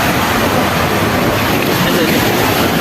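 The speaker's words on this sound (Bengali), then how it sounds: "তো দেখেন পানির কি গর্জন।" Roaring water beside a rough Marine Drive road near Cox's Bazar in the monsoon flood season, a loud, unbroken broadband rush with no pauses, heavy and close throughout.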